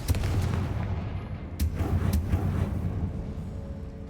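A Confringo explosion spell goes off in the Hogwarts Legacy video game, giving heavy booming blasts, with sharp bursts around the middle, over a loud rumbling battle background.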